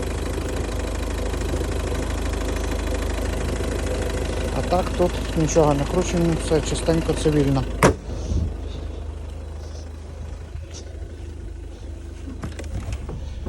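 A Volvo S-series car's 1.6-litre engine with manual gearbox idles steadily with a low rumble under a man's speech, then a door thumps shut and the engine hum continues more quietly.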